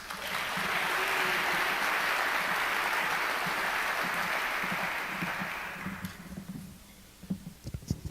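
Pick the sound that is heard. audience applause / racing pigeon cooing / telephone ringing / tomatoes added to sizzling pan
audience applause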